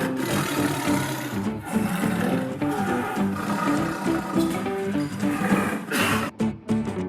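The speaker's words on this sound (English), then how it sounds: "Tiger." A tiger's roar in a wild-animal sound collection: a dense, loud, rasping growl running continuously for several seconds, rough and close, ending in a couple of brief breaks, with no talk over it.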